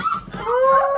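Puppy whimpering up close, a short high yip followed by a drawn-out, rising whine, fairly loud with no talk.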